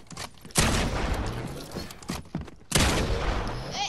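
Gunfire in the video game Fortnite: two loud, close bursts of shots, each a sharp attack trailing into a sustained rattling wash, the second arriving a couple of seconds after the first.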